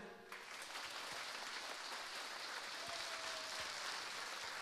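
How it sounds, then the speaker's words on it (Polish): An audience at a dance show claps after a performance, with broad, sustained applause rising sharply at the start and continuing evenly at a fairly low level, a faint tone drifting underneath. "Ogromne brawa, dziękujemy wam bardzo."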